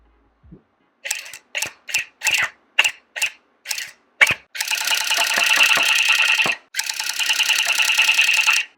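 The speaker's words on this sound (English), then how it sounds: "I wanted to just give you an example of what it sounds like" Long pile tufting machine punching yarn into a rug, first in eight short sharp bursts, then two long continuous loud mechanical buzzing runs with a brief gap between them.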